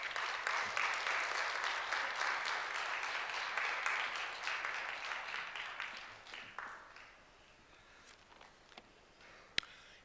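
A church congregation applauds to welcome the pastor: dense, loud clapping from many hands fills the first half, then thins out and fades to scattered claps and near quiet.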